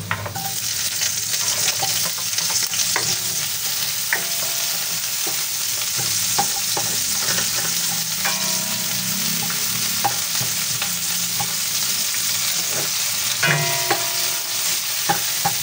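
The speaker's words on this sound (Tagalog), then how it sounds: "pero po tayo ay igigisa po natin. Ayan, yung ating luya, yung ating sibuyas." Ginger and onion are sautéed in oil for tilapia, giving a loud, steady sizzle with frequent spoon scrapes and clicks against the pan throughout, heard up close with no talking.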